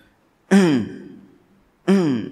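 Two separate throat-clearing sounds, close and fairly loud, each a voiced rasp that fades out, with a short quiet pause between them.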